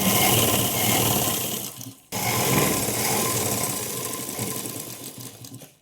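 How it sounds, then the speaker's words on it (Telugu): A sewing machine stitches the main fabric of an umbrella frock in a long, loud, steady whirring run. It stops briefly around the middle, then carries on stitching to the end without any talking. "ఇప్పుడు ఈ మెయిన్ క్లాత్ని హ్యాండ్ నుంచి కుట్టుకునేటప్పుడు ఫస్ట్ ఇక్కడ నుంచి కుట్టుకోకుండా ఫస్ట్ మెయిన్ క్లాత్ కుట్టుకోవాలన్నమాట ఇలా స్ట్రైట్గా మొత్తం ఇలా స్టిచ్చింగ్ అనేది చేయాలి"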